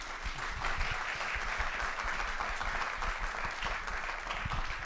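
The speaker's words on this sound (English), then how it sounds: "Can I get a round of applause for our panelists?" Sustained applause from a panel-discussion audience, dense steady clapping from many hands at even loudness throughout, with a faint murmur of voices beneath.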